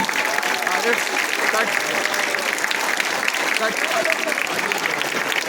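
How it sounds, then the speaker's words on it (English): Steady, dense applause from an audience fills the whole stretch, a continuous wash of many hands clapping. "start clapping for the children"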